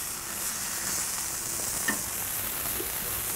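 A bacon cheeseburger patty sizzles steadily on a hot griddle just after being flipped, a continuous bright hiss with a few small pops, close and even throughout.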